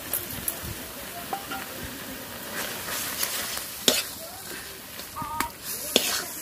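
A spoon stirs a spiced mixture of roasted chilli powder and sugar in a pan, scraping and clinking over a steady close sizzle, with scattered sharper taps.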